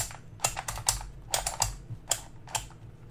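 A Meffert twelve-faced dodecahedron twisty puzzle with a click mechanism is turned in the hands, giving a rapid, irregular series of crisp plastic clicks and clacks, close and fairly loud.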